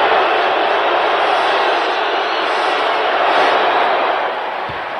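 A basketball crowd at a Detroit Pistons home game against the Chicago Bulls roars as a broad, steady wash of noise that dips slightly near the end, with a commentator talking over it.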